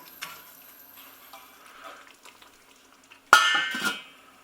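Vegetable goulash with carrots, parsnips and potato being stirred in a pot: a faint scraping stir, then a loud burst of spoon clattering against the pot near the end.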